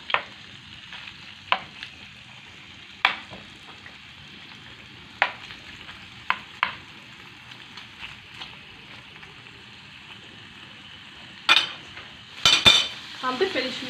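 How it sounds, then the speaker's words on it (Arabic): Calamari frying in oil in a pan, a soft steady sizzle running underneath with scattered clicks and scrapes of a utensil stirring, and a louder clatter toward the end. "كالامار يطيب"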